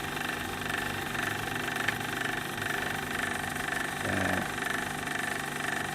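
A small homemade grinder cuts opal potch in New South Wales, Australia, running as a steady close motor whine with a brief lower grinding shift near the end and no talk.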